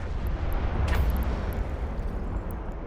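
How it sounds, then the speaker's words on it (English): Cannons fire in the space combat game Eve Online, giving a dense, deep rumbling barrage with a sharper burst near the middle, steady and moderately loud with no voices. "Yeah, you guys don't like my new cannons,"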